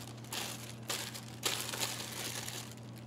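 A plastic bag from a Czech military ration pack crinkles and rustles in several bursts over a few seconds, close and fairly loud, with no speech.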